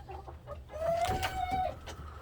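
A hen in a backyard coop gives a single drawn-out, wavering call, with a few soft clucks around it, fairly close on a quiet rainy day.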